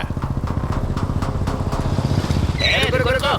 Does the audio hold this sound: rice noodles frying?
no